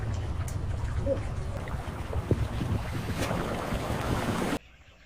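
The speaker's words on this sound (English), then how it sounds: "AI clips of someone controlling a small remote control boat on water" Steady wind and water wash around a small remote control miniature boat, a continuous broadband rush with faint splashes, cutting off abruptly near the end.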